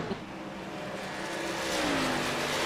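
Race cars running on the track at Nashville, heard as a steady, fairly distant engine drone with a rising pitch sweep toward the end as a car accelerates past.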